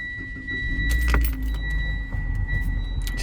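Keys jangle close by as a 2017 Mitsubishi Lancer ES Sport is started with the key, with a steady dashboard chime under a brief low engine crank and idle rumble; no talking.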